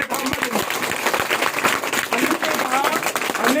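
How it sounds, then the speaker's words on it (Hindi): An audience at a village gathering claps briefly, with scattered, uneven hand claps mixed with voices and crowd murmur, fairly close and loud. "ताली बजाइए"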